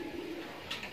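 Racing pigeons held in a backyard loft during a bird flu race suspension give a single soft, low coo, faint and brief against quiet surroundings.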